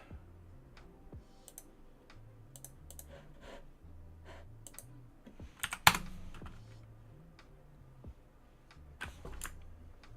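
Computer keyboard typing, close and fairly quiet, with irregular bursts of key clicks and short pauses, plus one louder clack midway and low background hum.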